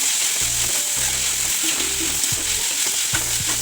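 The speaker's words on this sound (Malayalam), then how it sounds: "തക്കാളി നല്ല വഴട്ടെ." Chopped tomatoes frying in a pan for a home-made fish keema, a steady close sizzle with repeated scraping stir strokes throughout, no voices.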